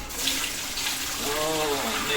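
Water pouring into a container while making ginger beer, a steady close splashing stream whose pitch rises slightly as it fills, with a voice speaking over it.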